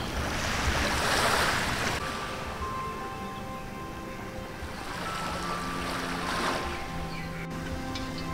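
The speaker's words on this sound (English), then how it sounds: "Let's look at the beach." Ocean waves washing onto a beach at Koh Chang, with a broad steady surf roar that swells gently twice, and wind buffeting the microphone throughout. No one speaks.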